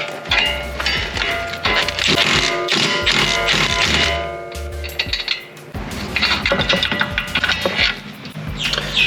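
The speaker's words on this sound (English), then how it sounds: "I might give this a couple of taps real quick with the back of a hammer, just to loosen it." Sharp, ringing metallic taps from the back of a hammer striking a CV axle on a 2008-2014 Subaru WRX/STi, loud and close, landing in quick irregular clusters with clanking resonance between blows.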